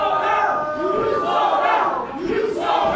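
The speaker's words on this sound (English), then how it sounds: "The crowd here in Greensboro definitely chanting, "You sold out,"" Pro wrestling crowd in a Greensboro arena chanting in unison, a loud, rhythmic collective chant rising and falling in waves that fill the hall.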